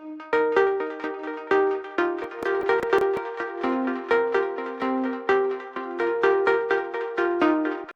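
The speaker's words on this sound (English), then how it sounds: "After the vocal, I added this pluck melody." A synth pluck melody rides over a beat, short bright plucked notes in a steady repeating rhythm with drum hits underneath, close and even in level, with no voices.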